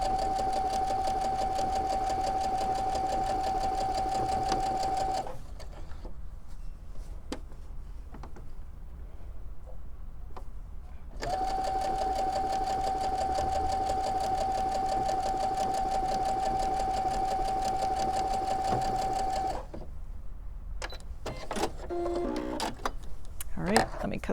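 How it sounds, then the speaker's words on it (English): A sewing machine stitches a quilt block in two long, steady whirring runs of several seconds each, separated by quieter pauses with small handling clicks and fabric rustle. "now I'm going to sew on the other side of that marked line"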